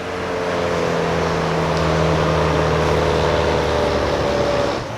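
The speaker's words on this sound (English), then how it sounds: "Accelerating down the straightaway, heading towards that final lap time." A race car at the Carlisle Ford Nationals track racing event accelerating down the straightaway, a loud sustained engine drone with steady tonal whine heard from close by, no voices over it.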